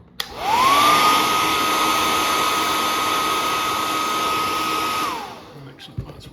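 A hair dryer blows hot air on action figure boots, spinning up with a rising whine, holding a steady loud whir for about five seconds, then winding down to quiet.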